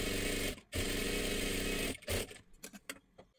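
A sewing machine stitches along a blouse neckline in two steady whirring runs separated by a short pause, then falls into a few brief stuttering bursts and handling noises.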